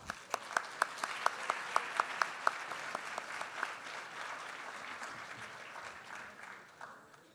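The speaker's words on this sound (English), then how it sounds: "Let's give them a round of applause" Audience at an art and politics symposium applauding the panelists, a few sharp nearby claps at the start swelling into steady, moderately loud clapping from a crowd before fading.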